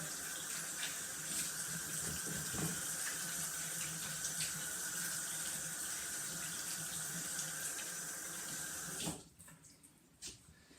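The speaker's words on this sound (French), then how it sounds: "je vais laver mes mains, encore une fois" Hands are washed under a running kitchen tap, with a steady close stream of water for about nine seconds before it shuts off, leaving a few faint handling sounds and no talking.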